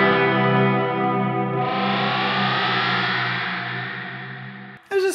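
An electric guitar plays through an effects pedal with its magic button engaged: a sustained, distorted, shimmering chord swells and rings loudly, then cuts off sharply near the end with a brief noisy burst.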